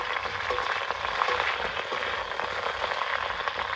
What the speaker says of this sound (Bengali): এখন আমি ফুলকপিগুলো তেলের মধ্যে দিয়ে দিচ্ছি।